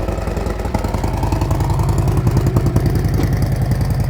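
A motorcycle engine runs in gear with a steady, loud, rapid low chug and a rhythmic mechanical patter throughout, close by with no talking.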